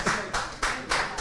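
An audience at an afterwork MC event claps in a quick, even rhythm, with four or so sharp, close bursts of clapping in just over a second.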